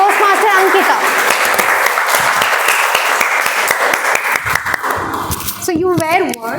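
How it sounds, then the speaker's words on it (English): An audience at a Toastmasters club meeting gives loud, sustained applause to welcome the general evaluator. The clapping is close and dense, with a voice speaking over the start and again as the applause fades near the end. "So with a huge round of applause, let's all welcome the general evaluator for today's meeting"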